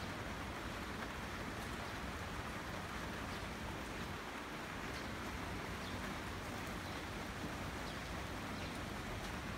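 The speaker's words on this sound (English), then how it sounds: "it's a really rainy day here in Kobe" Rain falls steadily outside a house on a rainy day in Kobe, Japan, seen from a small balcony, a continuous even hiss with no voices.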